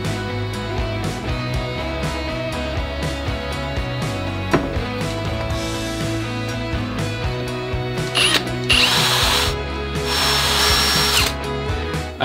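A power drill bores pilot holes into plywood end grain for a simple shop cart, loud close whirring in several bursts with motor pitch shifts and brief pauses, no speech.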